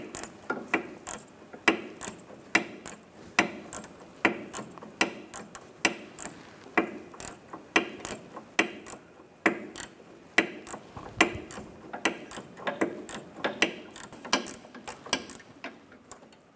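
A ratchet wrench clicks in rapid bursts while loosening the sway bar link nut on a 2015-2019 Lincoln MKC, with repeated sharp ticking strokes close up and steady, with no talking.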